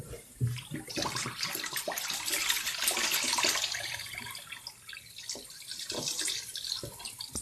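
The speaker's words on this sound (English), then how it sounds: "so you want to wash out all that shampoo." Water running and splashing as shampoo is rinsed out of a synthetic wig in a basin, a steady close rush of flowing water with small splashes and drips throughout, no voices.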